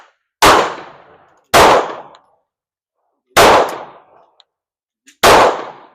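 Four loud, sharp shots from an S&W Sigma SW9VE 9mm pistol fired at a target, spaced unevenly with brief ringing decay after each and silence between.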